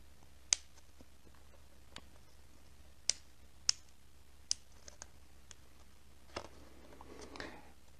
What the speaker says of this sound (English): I'll use scissors to cut a little nick and then fold up these little triangular corners just to hold it together.